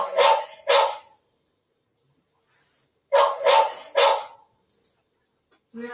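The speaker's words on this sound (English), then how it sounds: "We have set the alarm as the dog barking to scare away the thieves or something." A recorded dog-barking alarm plays from an outdoor 4K IP PTZ camera with 30x zoom: two sharp barks, a pause, then three more loud barks in quick succession, with another starting at the end.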